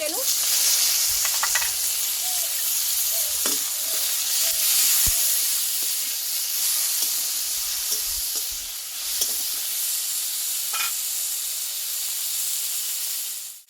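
Ginger, green chili and whole cumin paste with tomato frying in a pan: a steady, close sizzle and hiss throughout, with occasional soft stirring scrapes and no talk.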